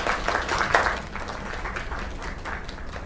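Applause in the video game Lake, a moderate round of clapping from a small group with a few louder bursts early on, continuing steadily for a few seconds.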